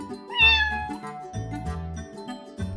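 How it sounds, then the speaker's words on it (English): A kitten on a farm gives a single short, high mew near the start, heard over a bed of steady background music. "Kitten."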